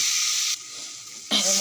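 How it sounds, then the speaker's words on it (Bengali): Spice paste with onion, salt and turmeric sizzles while being sautéed for a pabda fish curry, a steady hiss that drops quieter midway as it is stirred, then flares loud again. "এবার আমি মশলাটাকে ভালো করে কষিয়ে নেব।"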